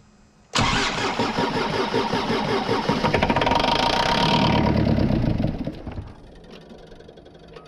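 A reluctant car engine that had not started since March, helped along with starting fluid, cranks and catches, then runs loud and steady for several seconds before dropping to a quieter idle.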